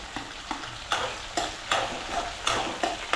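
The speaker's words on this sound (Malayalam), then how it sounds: "ഇതെല്ലാം കൂടെ ഇട്ട് ഇളക്കി ഒന്ന് ബ്രൗൺ കളർ ആവുന്നത് വരെ ഇങ്ങനെ ഇളക്കി കൊടുക്കാം" Green chili, ginger, garlic and curry leaves stir-fry in a pan for a lemon pickle, the spatula scraping in regular strokes about every half second over a steady close sizzle.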